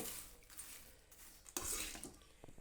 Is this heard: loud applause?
no